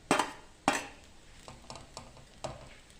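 A spoon scrapes and stirs fried vegetables into suji upma in a pan, with a few sharp clinks against the metal and softer scraping strokes in between, close and fairly quiet, with no voice.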